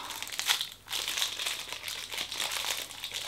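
Crinkly plastic wrapper noise, steady and close, with crackling scrunches and brief pauses as the package is handled.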